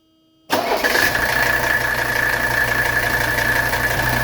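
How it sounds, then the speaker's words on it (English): A 1985 Mercedes 300SD diesel engine cranks and catches abruptly after a moment of silence, then settles into a loud, steady, clattering idle close by. "Now I'm going to go ahead and fire up the engine to get it to circulate"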